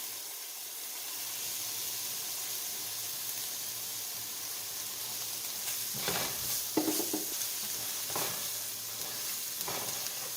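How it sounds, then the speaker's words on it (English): Ginger and garlic sizzling in hot fat in a pan for keto butter chicken, a steady close frying hiss with a few louder bursts as they are stirred. "I'll also go ahead and add in the leftover ginger and garlic."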